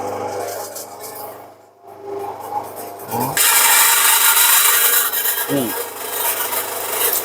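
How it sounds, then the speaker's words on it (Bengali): An electric grinding machine powders Korean ginseng root in a wholesale shop, first a low rasping hum, then a loud steady roar once the motor spins up, with a couple of brief thumps between. "এখন মেশিন দিয়ে স্টার্ট দেওয়া হবে দেখি কিভাবে হয়"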